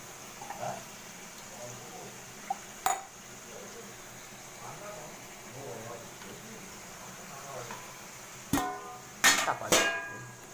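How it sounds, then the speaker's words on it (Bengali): A lid set onto a cooking pot of red chicken made with red amaranth greens: a few sharp metallic clinks and rattles, one early and a ringing cluster near the end, over quiet kitchen background with a voice talking. "এবার চাপা দিয়ে দেবো এটা খালি"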